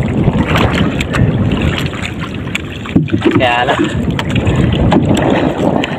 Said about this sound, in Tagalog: Napakalakas talaga ng hangin